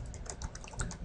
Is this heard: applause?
no